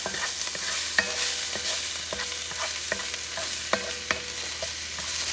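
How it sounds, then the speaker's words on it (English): Oxtail pieces sautéing with fresh ginger and seasonings in a pan for Jamaican-style oxtails: a steady, close sizzle with a series of sharp clacks as a utensil stirs and scrapes the pan, no talking. "Saute it."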